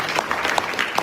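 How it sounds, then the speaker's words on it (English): A short burst of applause, light scattered clapping from a small crowd, heard faintly and briefly. "ridiculous round of applause"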